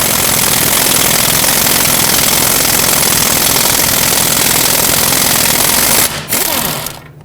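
An impact power tool hammers out a Toyota Camry front lower control arm bolt with a 22mm socket and extension, one loud continuous rattling burst lasting several seconds before cutting off, close and harsh.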